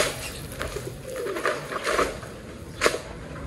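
Soft coos of racing pigeons in a loft come in a few short bursts against a steady background hum, with one brief louder call near the end.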